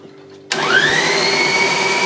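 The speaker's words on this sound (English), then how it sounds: "So I'm going to chuck it in the food mixer." A Kenwood food processor grinds dosa batter into a smooth paste. After half a second of quiet its motor kicks in loudly, with a rising whine that settles into a steady, even drone. No one speaks.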